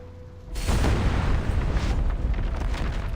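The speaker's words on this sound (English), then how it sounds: "The bomber detonates in the sky, taking the young pilot with it." In the video game Reverse 1999, a bomber plane explodes in the sky: a sudden loud explosion bursts after a brief quiet moment, followed by a sustained rumbling roar of debris and fire that slowly trails on.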